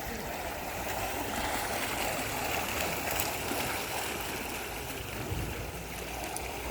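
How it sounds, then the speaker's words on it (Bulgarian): Running water fountains give a steady, broad wash of splashing and rushing water, continuous and fairly loud, with no clear pauses, heard from nearby outdoors in the evening. "Ето, фонтаните започнаха."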